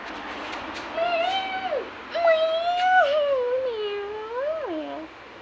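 A cat gives several drawn-out, wavering meows in a row, close and fairly loud over a steady low hum.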